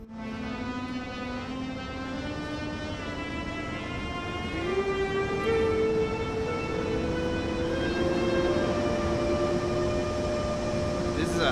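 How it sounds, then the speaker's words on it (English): A train in Train Sim World 4 hums along with a steady, rising motor whine and rolling rumble, smooth and continuous throughout with no voices. "absolutely beautiful train. The sound of it is absolutely fantastic."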